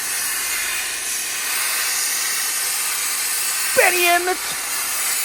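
A heat gun warming a Kia Rio car bumper gives a steady, loud, broadband hiss throughout, with a brief whistling squeak breaking through near the end.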